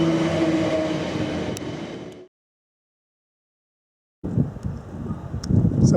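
A South Western Railway train rumbles at a station, a steady rolling roar that cuts out to silence and then resumes with rattling, clattering noise up close.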